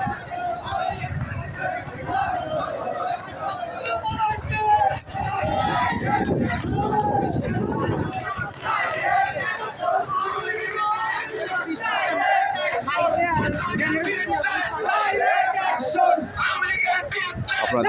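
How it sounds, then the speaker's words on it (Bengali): A huge Islami Chhatra Shibir street procession with thousands of marchers fills the air with continuous massed chanting and crowd roar, dense and sustained, with a voice talking over it. "এরা বিশাল মিছিল দেখতে পাচ্ছেন আপনারা"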